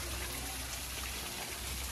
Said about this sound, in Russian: слушал бы это падение воды